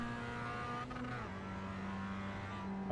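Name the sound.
race car driving at Laguna Seca in iRacing video game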